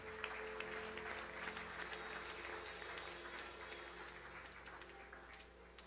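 A church congregation applauds and cheers during a worship service, a dense, steady wash of clapping that holds for several seconds and eases slightly toward the end, with no talking.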